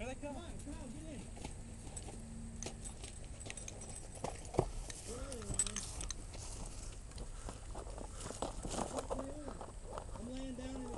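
A flock of geese approaches during a goose hunt, with repeated honking calls coming from a distance across open ground while people talk nearby.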